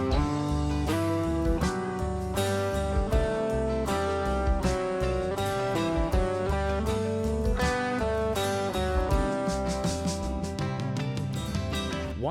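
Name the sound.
guitar playing the major scale in a robotic way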